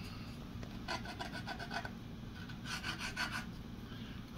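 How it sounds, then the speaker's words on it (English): Sandpaper rasps on a balsa wood part of a rubber-powered AMA Cub model airplane in two close, gentle rhythmic bursts of rubbing strokes. "So, I'm going to sand it a little bit."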